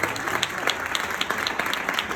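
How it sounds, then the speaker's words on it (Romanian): An audience at a presentation on Kangen water applauds steadily, with dense overlapping claps keeping a constant loud level throughout and no clear talking over them. "Aplauze!"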